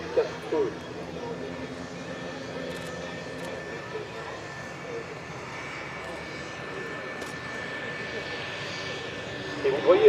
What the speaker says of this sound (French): c'est des avions assez légers, ça bouge en vol